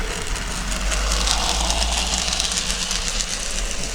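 An N gauge model railway train runs along a layout with a steady, continuous mechanical rumble and whir, fairly close and constant throughout, with no talking.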